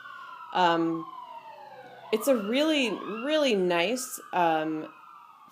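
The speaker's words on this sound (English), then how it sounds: "Sorry about the sirens." A police siren passing outside wails, rising and falling in sweeping cycles, fairly loud and nearby, while a person speaks over it.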